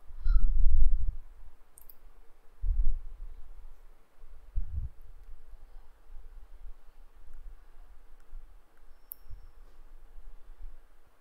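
Sparse clicks and soft low thumps from typing on a computer keyboard, entering a finance website's name, with louder bursts early and quieter scattered keystrokes afterward, close and alone without speech.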